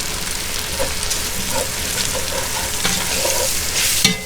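Butter and flour cook together in a pan into a white roux, giving a loud, continuous close-up sizzle with light stirring scrapes and a sharper clink near the end.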